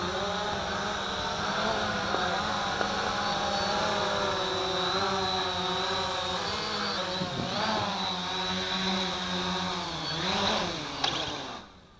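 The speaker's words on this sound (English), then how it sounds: "Cool quadcopter, huh?" A Cheerson CX-22 quadcopter drone flies at high speed, its propellers giving a loud, continuous whirring buzz whose pitch rises and falls as it manoeuvres, then drops away as it throttles down near the end.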